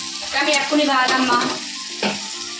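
Fish frying in a pan over a low gas flame, a steady close sizzle with bubbling and a brief stirring scrape, loud and continuous.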